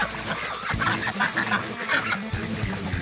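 A flock of chickens clucks and squawks around someone walking through a muddy yard at feeding time, with busy overlapping bird calls, occasional honks and footsteps close by.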